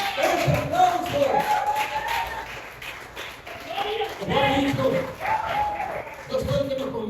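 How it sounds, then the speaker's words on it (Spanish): A church congregation claps and applauds through a Spanish-language service, with irregular hand claps mixed under ongoing talk or singing. "Un aplauso."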